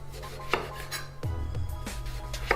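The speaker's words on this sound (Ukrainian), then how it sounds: "нарізаємо баклажани ось такими кільцями" Knife slicing eggplant into thick rings on a board, with a few distinct cutting thunks and scraping contacts, moderately close and unhurried, with no voices.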